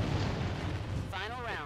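Gunfire and heavy blasts from a Halo 5 Warzone Firefight match rumble loud and continuous, with low booming bursts that give way to a voice speaking over the battle noise.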